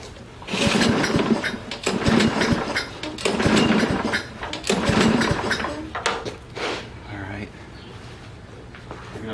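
A small Toro lawn mower engine with gas added to the carburetor sputters and runs in several loud uneven bursts before dying down, while people talk nearby.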